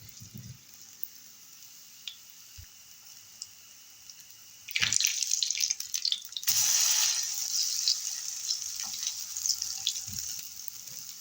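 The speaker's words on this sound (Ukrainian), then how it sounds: "І смажимо з обох сторін." Quiet kitchen clicks and drips, then a loud burst of frying as cabbage fritter batter hits hot oil, settling into a steady close sizzle.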